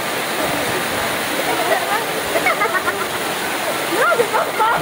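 Kawasan Falls in Trinidad pours with a steady, broadband rush of falling water close by, filling the whole stretch while people talk over it.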